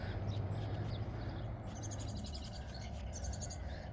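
Faint high bird chirps in a garden scattered over a steady low rumble of distant traffic, with a few brighter repeated calls in the second half.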